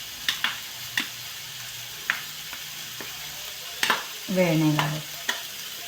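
Mashed eggplant bharit mixture frying in a pan, a low soft sizzle with sharp utensil taps and scrapes of stirring, a louder stirring burst near the end, and a brief voice speaking.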